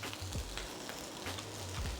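Nasi goreng with bunga kantan sizzling in a hot pan while being stirred, a soft crackling fry with short scraping strokes of the spatula, fairly faint and with no talking.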